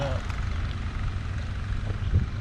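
A DJI Mavic Mini drone flies outdoors on its first flight, its propellers making a low, steady buzzing whir under faint background noise.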